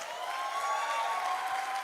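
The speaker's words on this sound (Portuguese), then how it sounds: "nós vamos honrar aplaudindo bem forte ao Senhor Jesus." Church congregation clapping in honour of Jesus, a continuous mass of hands with a thin tonal hum or held note running underneath, steady and moderately loud throughout.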